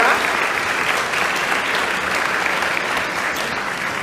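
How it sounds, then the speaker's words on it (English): Awards ceremony crowd in Tulsa applauding Rose Rock, a loud, continuous round of clapping from a full room with no break. "Let's round of applause for Rose Rock"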